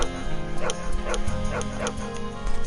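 Dogs barking in a video game: a rapid series of yipping barks and whimpers over a busy game soundtrack, fairly loud and continuous.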